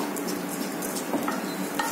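Toor dal frying in a pan, a soft continuous sizzle with gentle scraping stirs and a few faint clinks, close and steady throughout.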